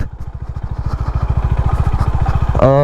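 A Honda Highness CB 350 motorcycle rides in second gear on an off-road trail, its single-cylinder engine thumping in a fast, steady close pulse, with a brief rise in pitch near the end.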